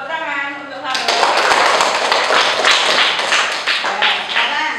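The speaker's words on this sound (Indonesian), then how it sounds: "Tepuk tangan untuk Faro." Classmates in a primary school religious lesson clap for a pupil, sharp close hand claps breaking out after a teacher's sung recitation and continuing as a brisk, slightly uneven patter.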